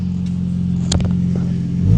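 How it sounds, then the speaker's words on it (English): A car engine idles in park with a low rumble, then a brief rattling, raspy burst as it revs, from broken exhaust parts. "That sound like broken exhaust parts"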